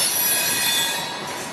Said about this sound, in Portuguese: Esse trem que trafegava ali na linha 10, no trecho principal,